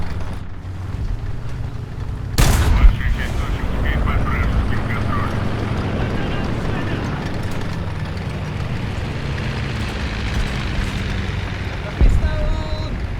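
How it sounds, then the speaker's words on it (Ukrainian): A loud, sharp cannon blast from the M-51 in War Thunder cracks out once early on, then a second shorter boom follows later, over a constant engine-like drone and low chatter. "Ні, це гармата когось."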